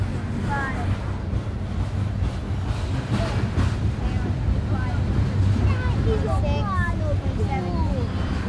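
A loaded CSX coal train rolls past below a bridge in a continuous low rumble that lasts throughout, with wind buffeting the microphone and a few squealing wheel or flange tones, and no talk in the clip.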